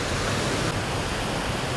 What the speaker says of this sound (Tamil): ஸோ தண்ணி வந்து பாருங்கள் இந்த இடத்துல எவ்வளோ ஃபாஸ்ட்டாக போயிட்டுருக்குதுன்னு